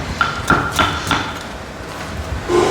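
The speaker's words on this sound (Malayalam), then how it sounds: "അപ്പോൾ വെജിറ്റബിൾ കട്ടിങ് ആൻഡ് കാര്യങ്ങൾ നടക്കുന്നു" Vegetables are chopped on a board during wedding food preparation: a handful of sharp, close knife knocks come at an uneven pace, with a quieter stretch between them.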